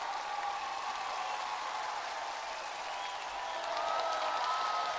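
A studio audience at a TV singing competition applauds the coaches, a dense, steady roar of clapping that holds loud and even for several seconds without a break.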